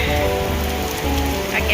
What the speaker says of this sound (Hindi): और हवा के साथ बारिश हो रही है